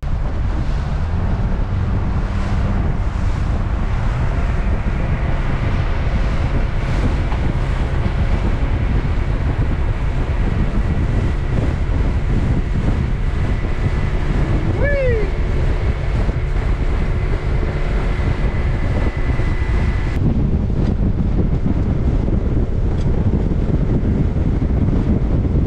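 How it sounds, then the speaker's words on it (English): Wind buffets the microphone on a fishing boat out on the water, a steady loud rumble and roar lasting throughout, with engine and water noise mixed in. "Let's get out here in this wind"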